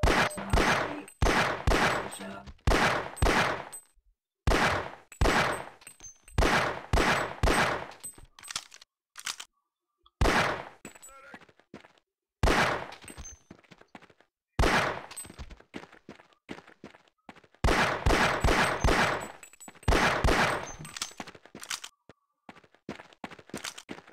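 Half-Life video game gunfire: bursts of sharp shots in rapid strings separated by short silences, loud and close, with no voices over them.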